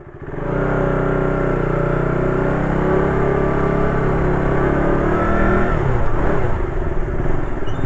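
A 2018 KTM RC 200 motorcycle engine runs close and loud at a high, sustained rev, holding a steady droning whine with a slight dip and wobble near the end.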